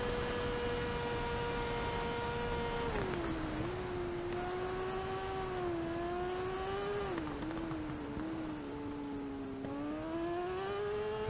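A sidecar racing outfit's engine at the Isle of Man TT, a loud continuous high-revving drone heard from onboard that rises and dips as it shifts gears, steady and unbroken throughout.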